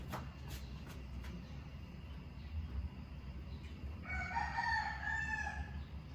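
A rooster crows in the distance, one drawn-out call rising over a low steady rumble of outdoor background noise.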